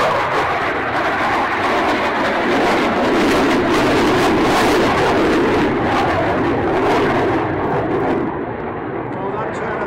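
A Eurofighter Typhoon fighter jet flies airshow manoeuvres, its loud, sustained engine roar filling the whole stretch and swelling slightly before easing off near the end, with a commentator's voice running underneath.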